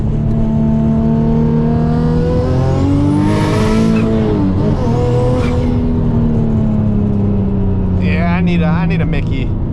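A turbocharged Nissan 350Z pulls hard through the gears from inside the cabin, engine note climbing loud and close before a shift, then rising again. Turbo whistle and whoosh sit high above the roar, and a voice talks over the engine.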